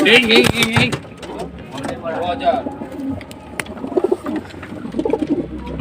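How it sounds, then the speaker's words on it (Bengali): Soft cooing from a pigeon sitting on its eggs close by, mixed with rustling and handling noises and a person talking quietly in the background. "নিচে ডিমে একটা পায়রা বসে আছে"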